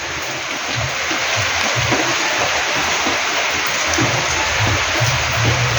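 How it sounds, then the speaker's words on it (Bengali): Heavy winter rain pours steadily in a rural setting, a dense continuous hiss of falling water with faint low patters underneath and no voices. "মারাত্মক বৃষ্টি হচ্ছে"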